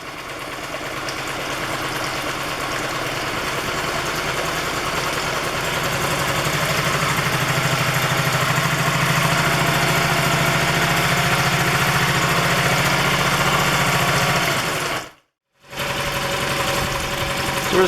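A small outboard marine motor idling steadily while warming up, a close, constant mechanical drone with a low throb that runs unbroken, cutting out briefly near the end before resuming.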